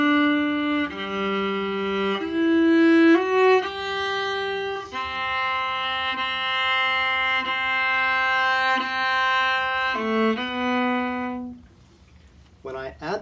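A solo viola plays the first movement of a Telemann concerto with no vibrato: a connected line of sustained, steady-pitched notes, clear and close, ending in a short silence.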